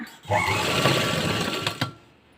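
A sewing machine stitches netted boutique-style sleeves in a close, fast mechanical burst lasting about a second and a half, trailing off into a few last clicks.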